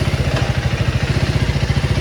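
A KTM 390 Adventure motorcycle engine runs close by in a steady, throbbing idle, its low pulsing beat loud and even and heard with no talk.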